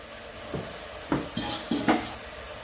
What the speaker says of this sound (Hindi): सब्जी मैंने डाल दी है। चला चलाकर इसको अच्छी तरह से भून लेंगे।